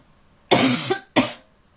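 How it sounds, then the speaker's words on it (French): A woman with a cold coughs twice in quick succession, a longer harsh cough followed by a shorter one, close and clear against a quiet room. "Je sais, je tousse encore,"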